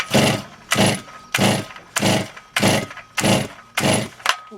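A Motor Sich 270 chainsaw reluctant to idle, its engine revved in a steady series of about seven short, loud throttle bursts, each surging and dropping back, close by.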